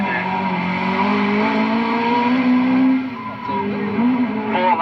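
A rally car roars past at speed on the 1978 RAC Rally, its engine note rising and falling with a brief dip as it goes by, loud and close.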